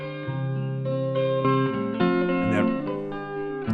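An electric guitar is heard only through a short reverb return, with sustained chords and single notes ringing with harmonic tone and a brief, tight ambience, loud and close, without talk.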